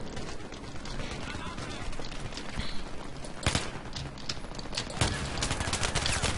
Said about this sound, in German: jetzt Granate einfach random reinschießen